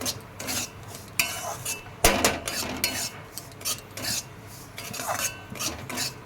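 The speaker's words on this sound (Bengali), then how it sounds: "সুজিটা একটু ভাজা ভাজা করে নেবো" Semolina with cardamom is roasted in a pan, a utensil scraping and stirring against the metal in repeated rasping strokes, close and moderately loud, with no talk.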